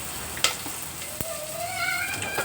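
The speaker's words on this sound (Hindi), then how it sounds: "और ये जाएगा हींग का तड़का" Asafoetida tempering hitting hot oil, a close, continuous sizzle and crackle of frying with a couple of sharp pops and a faint stirring scrape.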